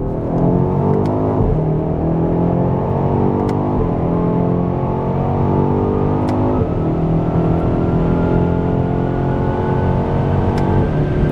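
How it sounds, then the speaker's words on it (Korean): A BMW X5 M xDrive Competition accelerates hard on a straight, its engine note climbing loudly through several gears with short breaks at each shift, heard close from inside the cabin without talk. "이 상태에서 직선 구간 가속 성능 테스트를 진행을 해 보도록 하겠습니다"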